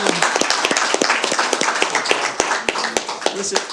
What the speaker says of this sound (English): let's give a round of applause to Mr. Creed